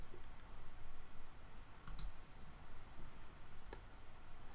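Two crisp computer mouse clicks, one a quick double click near two seconds and a single click near the end, over a steady background hiss while inserting and playing a video in PowerPoint.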